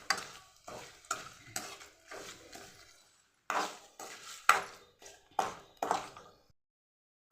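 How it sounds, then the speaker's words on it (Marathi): Bay leaves fried in oil in a pan while preparing black masala, heard as a series of short stirring and scraping strokes against the pan, each with a brief sizzling tail, close and quiet with pauses between. "पानं छान अशी मी भाजून घेतलेले आहेत तेलामध्ये"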